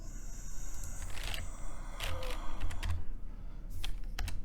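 Fast, irregular typing on a computer keyboard with bursts of close key clicks separated by short pauses, heard alone at moderate volume.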